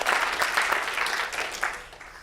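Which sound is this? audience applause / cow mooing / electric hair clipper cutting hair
audience applause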